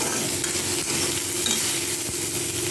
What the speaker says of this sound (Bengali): আলু আর আমকে ভালো করে ভেজে নেব